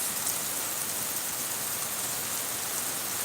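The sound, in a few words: heavy rain starting to fall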